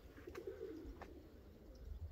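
Pigeons coo softly in a low murmuring rumble, a faint continuous burble of several birds close by with a couple of brief sharper sounds over it.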